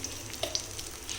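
Asafoetida dropped into hot oil in a pan on a lit stove, giving a steady close sizzle with a few soft pops and clinks, no voices.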